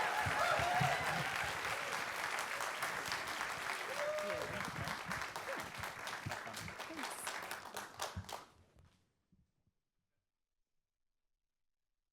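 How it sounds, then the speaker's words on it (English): A live audience at a science storytelling show applauds to welcome a storyteller, steady fairly distant clapping with faint voices mixed in, lasting about eight seconds before cutting off into silence. "Give her a big round of applause"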